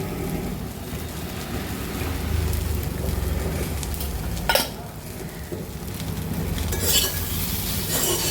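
Okra stir-fries in a pan with a continuous soft sizzle, while a spatula tosses and scrapes it with intermittent clatters, including a sharper knock midway.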